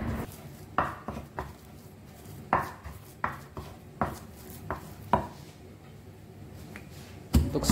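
Whole coriander, ground turmeric and spices pounded and ground into a paste with a mortar and pestle, giving sharp, irregular knocks and scrapes spaced about a second apart, close and fairly loud, with no talking.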